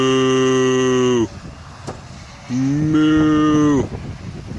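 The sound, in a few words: cows mooing in a field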